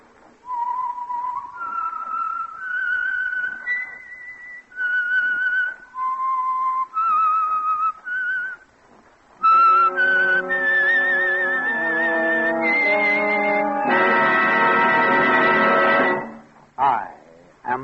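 A lone whistler carries a slow, eerie melody of held notes, the theme of the radio drama The Whistler, then music swells underneath with sustained orchestral tones, loud and near.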